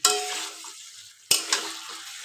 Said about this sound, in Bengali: এবার এর মধ্যে আমি আলুটাকে দিয়ে দেবো। এবার একটু কষিয়ে নিয়ে জল দিলেই ব্যাস।